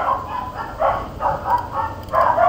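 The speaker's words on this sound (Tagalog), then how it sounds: "Dami aso." Several dogs bark in repeated loud bursts at a moderate distance, with short gaps between the volleys.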